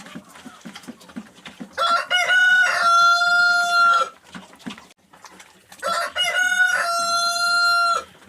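Two long rooster crows ring out close by, separated by a pause filled with soft clucks and rustling.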